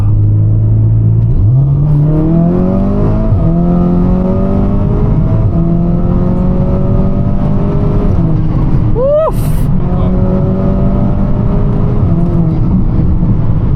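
An Audi S3 engine revs hard and climbs through several gears in comfort mode, each shift dropping the pitch before it rises again, loud and close from inside the cabin.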